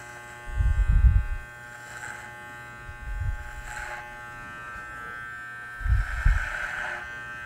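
Electric hair clippers fitted with a number 3 guard cut a man's hair, giving a steady close buzz that swells in three louder bursts as the blade passes through the hair.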